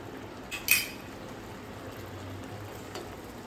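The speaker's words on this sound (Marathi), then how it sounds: "पूर्ण पाणी आटेपर्यंत आपल्याला हे हलवायचं आहे, जरा सुद्धा लागून देऊ नये." Jaggery filling for modak cooking in a pan, a quiet bubbling simmer broken by a sharp metallic clink of a spoon against the pan early on and a faint tap later.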